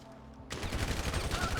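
Sudden burst of rapid gunfire in a GTA V zombie mod game, loud and dense shots cracking one after another after a quiet start.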